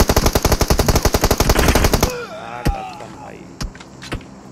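Rapid automatic gunfire from the PUBG Mobile video game rattles in a fast, loud burst for about two seconds, followed by a few scattered single shots and some faint game sounds.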